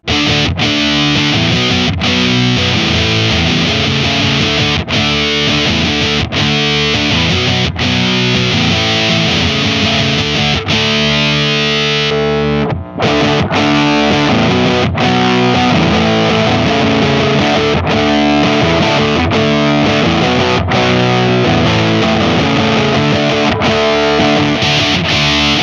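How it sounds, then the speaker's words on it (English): Electric guitar played through a Big Muff fuzz pushed into a Tube Screamer overdrive, giving a loud, thick, saturated riff with a mid-range boost and heavy sustain, broken by a brief cut near the middle before the distorted playing resumes. "Let's run that big muff into the tube screamer, which will then revoice that pedal."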